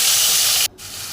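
Cinnamon and cloves sizzle loudly in hot tempering oil with cumin and five-spice seeds, a close, bright hiss that drops sharply for an instant before carrying on.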